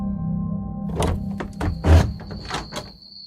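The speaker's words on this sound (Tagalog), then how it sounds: "biglang bumukas ang pinto" A house door bursts open at night, a sequence of thuds, clicks and scraping knocks over a low steady hum, with a sharp impact near the middle.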